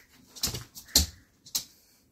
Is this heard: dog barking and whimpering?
yes